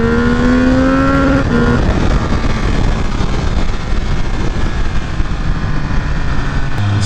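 A Triumph Speed Triple 1200 RR motorcycle accelerates hard on a ride, its engine note climbing in pitch briefly before giving way to a loud, steady roar of engine and rushing wind that fills the rest of the clip.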